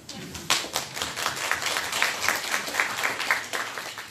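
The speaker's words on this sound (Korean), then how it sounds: "박수 한번 드리겠습니다." An audience claps at a citizens' regional meeting in Hwaseong, the hands starting abruptly and carrying on as a fairly rhythmic, moderately loud round that eases off toward the end.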